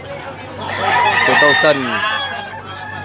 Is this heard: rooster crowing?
yes